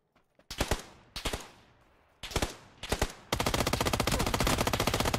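Gunfire in PUBG: a few sharp single shots spaced apart, then a sustained rapid automatic burst, loud and close with no voices over it.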